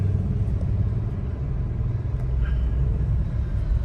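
Rush-hour road traffic outside the Save More and Jollibee on Ildefonso: a steady, dense low rumble of car engines that fills the whole stretch without a break.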